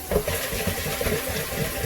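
Water runs from a tap into a pot of soaking white beans for rinsing, a steady close hiss and splash with faint gurgling underneath.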